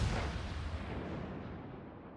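Warship guns fire in a World of Warships naval battle, a single heavy booming blast that rolls off into a long fading rumble, loud and alone.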